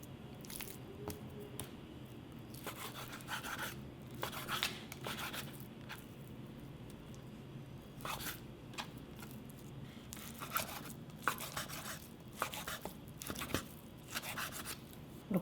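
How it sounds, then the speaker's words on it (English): A knife slices lean pork shoulder into thin strips on a board. Soft, irregular squishy cuts come in bursts, quiet and close, with no talking. "So 1 pound of pork, I'm going to cut into thin strips."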